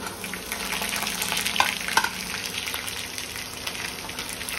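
Onions and garlic cloves sautéing in a pan for Tamil sundaka chutney give a steady, close sizzle and crackle, with a couple of sharp clinks from stirring partway through.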